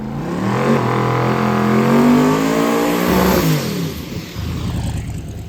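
A race car engine held against its 9,000 RPM rev limiter during a burnout, a loud, close, sustained high-revving roar with slight wavering pitch, dropping briefly near the end before picking back up.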